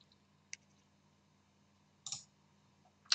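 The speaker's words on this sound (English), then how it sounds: "So I make the right click here" Computer mouse clicks, including right-clicks, while editing a Spark AR ad for Facebook: three sharp, close, isolated clicks spaced apart against a nearly silent background.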